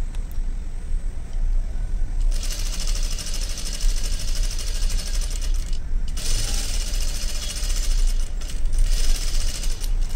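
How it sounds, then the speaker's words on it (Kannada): A sewing machine stitches blouse lining in a continuous, close, busy mechanical whir and rapid needle clatter, running steadily for the whole stretch with brief shifts in intensity. "ಈಗ ಇದನ್ನು ನೀಟಾಗಿ ಸ್ಟಿಚ್ಚನ್ನು ಹಾಕ್ಕೊಂಬಂದ್ಬಿಡ್ತೀನಿ ನಾನು"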